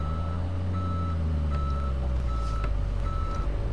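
A large Kenworth W900 truck reversing in a video game, its rapid steady reversing beeps sounding over a constant low engine rumble.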